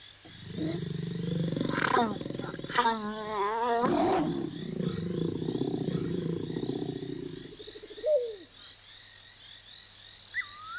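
Adult male lions of the Mala Mala pride roar in the bush, a deep rumbling call that swells and falls over several seconds, with insects and birds chirping faintly behind and a brief higher cry near the end.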